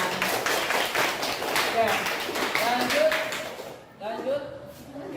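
A classroom group applauds, a burst of many hands clapping in quick irregular patter mixed with voices and talk, fading out after a few seconds.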